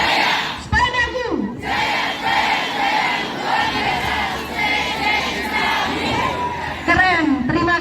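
Schoolchildren shout a class yell together in a classroom, loud, rhythmic bursts of massed young voices with rising and falling cries, nearly continuous and close throughout.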